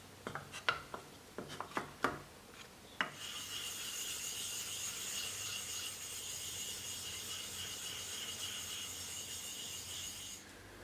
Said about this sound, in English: Then I'm going to do circular motions with my leveling block until it is perfectly level.